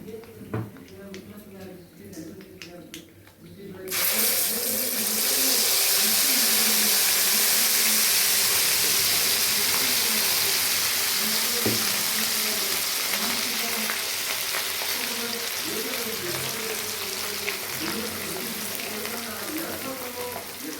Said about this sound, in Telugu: ఇట్లా ఎర్రగా పోపు వేగింది. ఇప్పుడు ఈ పచ్చడి వేసేయాలండి.